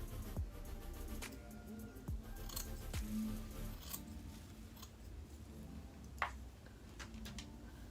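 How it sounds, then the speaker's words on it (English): Scissors snip through hair in a quiet, close series of crisp clicks at an irregular pace, with no talking. "I'm just gonna use that guide and cut the rest of my hair the same length"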